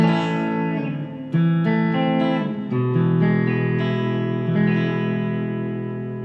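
Donner Tele electric guitar with its pickups switched in series for a boosted tone, sounding a few loud sustained chords and strums that ring out with a thick, driven, slightly reverberant character, and no voice over it.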